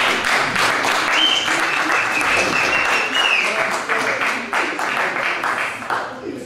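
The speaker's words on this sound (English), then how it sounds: "I'd like you guys to clap for him." An audience at an artistic night event claps and cheers loudly and steadily, a brief whistle rising over the dense applause before it slowly thins toward the end; voices are mixed in.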